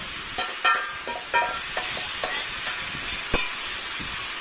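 Ground spices for a fish curry hiss and sizzle in a hot pan after a splash of water, a steady bright fizz broken by scattered sharp clicks and spoon scrapes, close up with no talking.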